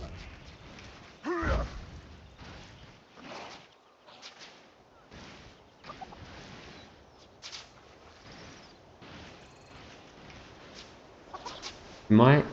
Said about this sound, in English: Click on a hungry chicken.